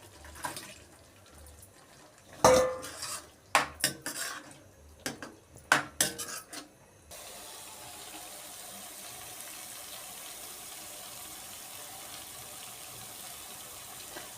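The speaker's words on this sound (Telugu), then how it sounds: "మసాలా ఉడికేంత వరకు ఈ మునక్కాయలను వేసేస్తున్నాను" Drumsticks are added to a masala curry in a metal pan with a quick run of clattering knocks and scrapes, and then a steady soft hiss of simmering continues alone.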